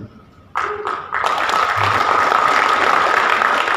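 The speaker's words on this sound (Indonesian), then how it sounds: "Kok malah tepuk tangan" An audience bursting into applause, clapping that starts partway in and swells into sustained, dense, loud clapping from a crowd, with a voice briefly audible at the start.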